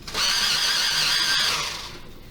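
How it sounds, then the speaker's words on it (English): An electric pencil sharpener whirs while grinding a coloured pencil, giving one short, loud, buzzing burst of about a second and a half that fades out at the end. "I do recommend you invest in an electric sharpener."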